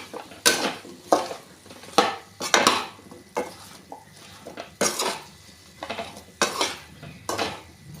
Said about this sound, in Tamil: இப்போ இந்த மசாலாவோட பச்சை வாசனை போகிற அளவுக்கு நல்லா வதக்கிக்கலாம்.